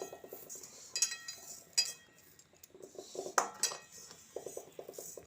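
Gobindobhog rice scooped and measured out with a bowl, giving repeated light rattling clinks and dry grain pours in short bursts, close and fairly quiet, with no talking.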